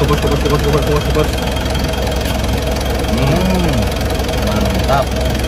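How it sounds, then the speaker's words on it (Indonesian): A Mitsubishi Pajero Exceed with automatic transmission idles steadily nearby, a smooth, even hum running under someone talking throughout. "Mesinnya juga halus banget ya, Pak."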